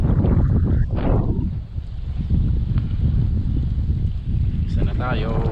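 Strong wind gusts over a boat on open water, a heavy, steady low roar of wind buffeting the microphone throughout, with brief voices briefly rising above it.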